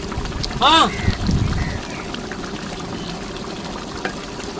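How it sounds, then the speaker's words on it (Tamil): Ghee pours into a large pot of mutton biryani, made in a 30 kg batch cooked outdoors in a village. It gives a brief liquid splash early on, over steady outdoor background noise with a faint voice-like sound. "நெய் ஊற்றிக்கலாம்."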